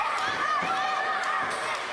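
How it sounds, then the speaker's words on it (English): Wrestling fans cheering for a wrestler at a live event in Trois-Rivières, Quebec, a steady broad roar of crowd noise with scattered shouts throughout. "The fans are cheering for Maximum Testosterone."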